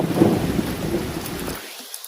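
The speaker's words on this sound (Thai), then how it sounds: "ฟ้าร้อง" A loud, broad rumble of thunder rolls over steady heavy rain in a rainforest storm, fading out after about a second and a half.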